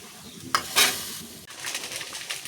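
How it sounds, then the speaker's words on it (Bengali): Elephant foot yam and prawn curry stirred in a pan, a soft scrape followed by a steady sizzle and low bubbling, close and fairly quiet, with no voices. "তো এখন আমি একটু নাড়াচাড়া করব, করে একটু ফুটতে থাকবে"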